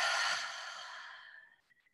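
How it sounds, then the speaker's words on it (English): A slow, audible exhalation during a guided breathing exercise, a soft breathy rush that begins fairly full and gently tapers away over about two seconds, close and quiet. "And breathing out."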